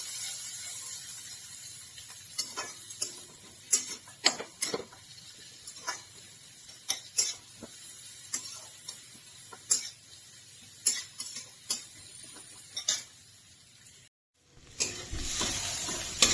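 Spices and onion sizzle in hot oil in a pan as a tempering cooks, a steady low frying hiss punctuated by frequent sharp clicks and taps of a spoon stirring, with no voices.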